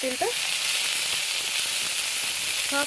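Pointed gourd (potol) frying in hot oil in a home kitchen, a steady, dense sizzle that holds throughout, with faint clinks of utensils at the start and end.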